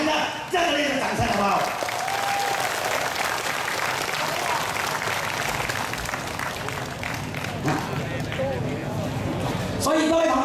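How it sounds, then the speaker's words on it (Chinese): Warm applause from an audience at a Chinese-language community association gathering, sustained broadband clapping filling the scene from start to finish with a loud crowd roar and some voices mixed in. "我们给他一个热烈的掌声"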